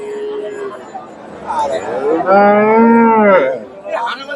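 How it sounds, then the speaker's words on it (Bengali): At the Chandaikona cattle market, a dairy cow gives one loud, drawn-out moo close by. Crowd chatter and people talking run underneath. "এখানে একটা গাভী বাচ্চা দেখতেছি"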